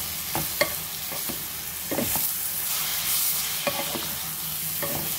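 Egg frying in a pan with onion, garlic and a little salt, a steady loud sizzle with scraping stirs of a spatula at irregular moments throughout, close up and without talk.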